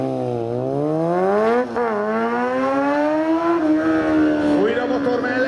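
A streetfighter motorcycle engine during a stunt riding show, revving high and rising in pitch, dipping briefly, then climbing again as the bike accelerates, loud and close with crowd and announcer noise underneath.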